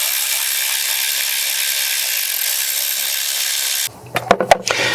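A cordless Milwaukee ratchet whirs steadily for nearly four seconds while backing out bolts from the VTEC solenoid on a Honda K24 2.4L engine, then stops and a few sharp clicks and clunks follow.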